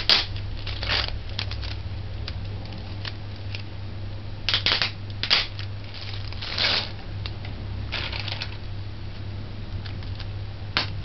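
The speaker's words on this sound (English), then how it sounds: "take the noodles you want to use and break them" Dry noodles for saltfish macaroni snapped by hand into short pieces, a series of sharp crisp cracks and crackles in uneven bursts over a low steady hum, close and fairly loud.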